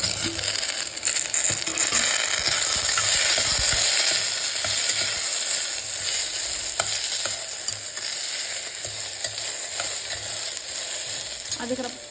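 Two tomatoes and an onion fry in a pan, a steady loud sizzle running throughout with occasional scraping and clinks of stirring, no voices.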